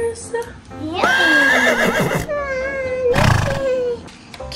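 A voice imitates a horse's whinny, a rising, quavering cry up close, repeated twice with a short pause between.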